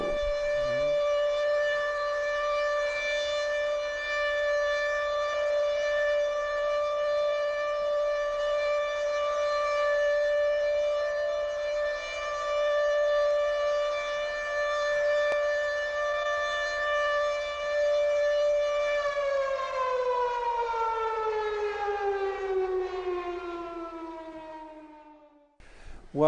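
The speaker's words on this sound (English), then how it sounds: "Oh, there goes the siren." A loud, steady wailing siren in Israel, sounded to honour Holocaust victims and survivors, holds one sustained tone for a long stretch, then winds down and fades out near the end, with no talking.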